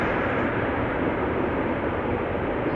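Airliner landing at Amsterdam Schiphol with thrust reversers deployed, a loud, steady broadband roar close by that holds throughout without letting up.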